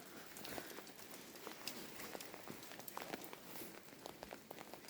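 Light rain pattering at night in a garden, with faint scattered drops ticking close by over a soft steady hiss; no voices.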